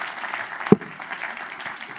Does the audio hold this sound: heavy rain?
no